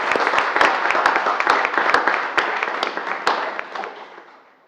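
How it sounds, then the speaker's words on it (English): Audience applause at a business session, dense clapping from a crowd starting strong and gradually tapering off over a few seconds. "So big round of applause for Jim and for Taylor and their service committee."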